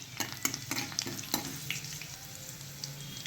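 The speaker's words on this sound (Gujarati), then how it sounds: "થોડું લસણને ઝીણું સમારીને એડ કરી દેશું અને થોડું લાલ થવા દેશું" Chopped garlic and cumin seeds sizzling in hot oil in a pan while being stirred, with a steady close frying hiss and scattered crackles and scraping taps throughout.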